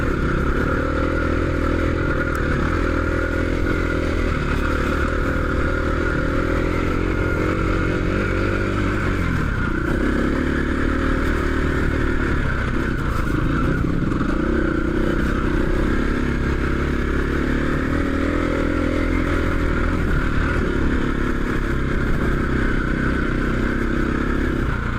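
Trail motorcycles climbing a long hill on a Dales trail ride, engines droning loud and steady with rising revs and clattering over rough ground, heard from on the bike for the whole stretch.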